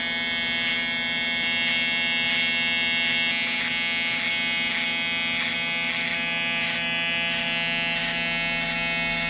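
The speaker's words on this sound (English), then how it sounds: "We're gonna go about a quarter in right here using my Gamma Evo X trimmer with the smaller blades." Gamma Evo X hair trimmer with smaller blades cutting a mid fade at a barber's chair, a steady close electric buzz with a bright whine that pulses slightly in rhythm as the blade passes through hair, with no talking.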